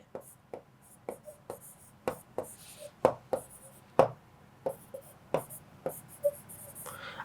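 Chalk or marker strikes a board during a history lesson in a run of irregular sharp taps and short scratchy strokes, close and fairly quiet, with a teacher talking faintly underneath.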